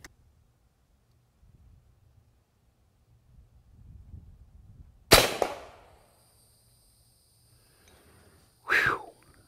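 A single sharp crack from an AirForce Texan .45 air rifle firing a hollow point downrange at 50 yards, loud and close, followed by faint rustling and a brief breathy exhale.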